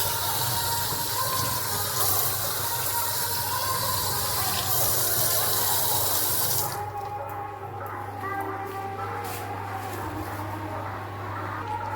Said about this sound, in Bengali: আরেকবার ভালো করে হাতটা ধুয়ে নিই।